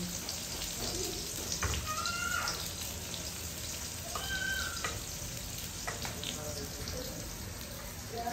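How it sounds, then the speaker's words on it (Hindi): Onions browning in a frying pan in a home kitchen give a steady, even sizzle that runs throughout, with occasional faint clinks over it. "प्याज मैंने ऐड कर दिया। अभी इसको अच्छे तरीके से ब्राउन करते हैं।"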